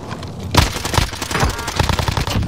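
Rapid bursts of video game gunfire in Rebirth Island, loud and close, with overlapping shots cracking in quick succession and no pauses.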